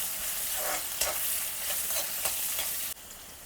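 Onions sizzle steadily in a hot pan, a dense crackling hiss. Several soft scrapes of stirring pass through it before the sound suddenly drops quieter.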